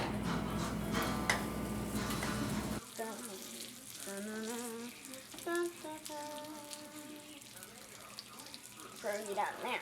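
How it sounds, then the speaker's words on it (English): Pierogies frying in a pan with bacon fat give a loud, steady sizzle for about three seconds, which then drops away to quieter clinks and watery, tap-like sounds. "So now we're gonna put the pierogies in the pan."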